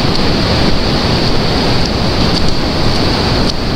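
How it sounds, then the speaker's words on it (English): Ocean surf rolls in steadily at Cayucos Beach, California, a loud, continuous broadband wash of breaking waves with some wind buffeting the microphone and no talk. "We are in Cayucos Beach."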